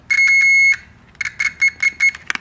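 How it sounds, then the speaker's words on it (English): A loud, high-pitched multimeter continuity beep held steadily, then several shorter beeps in quick uneven succession, close by, while testing brakes on a 1966 Jeep CJ5. "It makes a beeping noise whenever there's continuity."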